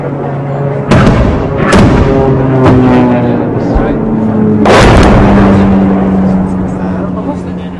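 Mortar fire in a war setting: two heavy booming launches roughly four seconds apart stand out, with smaller thuds between them, over a loud sustained rumble and humming tones, with people talking throughout.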